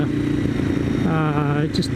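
Ducati Monster 1100 Evo motorcycle engine while riding, heard through a helmet cheek-pad mic: a loud, close engine drone under wind noise, rising briefly in pitch as it revs, with talk mixed in.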